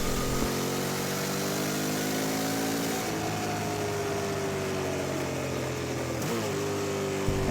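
A 2024 Honda Transalp XL750 adventure motorcycle engine drones steadily and loudly throughout, its pitch shifting slightly as the revs change, with no talking.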